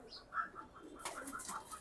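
Soft racing pigeon calls repeat in a short series, with a burst of fluttering wings partway through; faint and fairly close, no talking.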